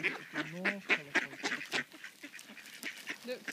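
Ducks calling at close range, a quick series of honking quacks bunched in the first two seconds, then fainter, sparser calls.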